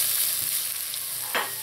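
Chopped onions sauté in hot oil in a pot with a soft, steady sizzle, and a spoon scrapes briefly near the end.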